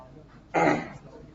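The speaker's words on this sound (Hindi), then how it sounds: "बोल रहा हूँ तो खांसी हो रही है" A single sharp cough bursts out close by in an otherwise quiet room, fading within a moment.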